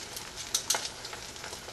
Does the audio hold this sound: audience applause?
no